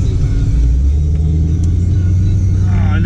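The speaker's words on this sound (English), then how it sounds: "An SRT just drove by" A Dodge SRT passing by, a deep rumbling engine that stays loud and close throughout the short stretch, low throb dominating with no talk.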